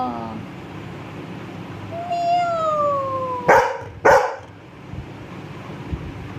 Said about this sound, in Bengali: তুই আমার দিকে কেন ভৌ ভৌ করছিস?